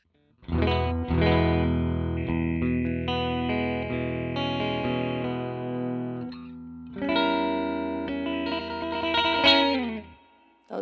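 Layered keyboard chords processed by a MoogerFooger Slow Leslie rotary-speaker effect, a loud swirling wash that pauses briefly midway, resumes with brighter, denser harmonics, then stops abruptly.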